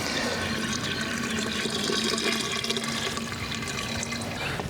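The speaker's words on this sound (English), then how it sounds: "So I'll be bringing the hose up to fill these tubes" A garden hose runs water into bucket tubs for a tomato and pepper garden, a steady, continuous rushing and splashing fill heard up close without pause.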